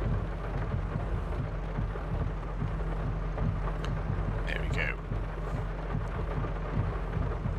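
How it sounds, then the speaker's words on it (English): Steady heavy rain with rumbling thunder in Farming Simulator 22 on a farm, a dense continuous wash with a low rolling rumble throughout and a few brief brighter crackles midway. "I've waited out the rain for for nearly 2 hours now, hoping it would ease off. If anything, I think it's gotten worse."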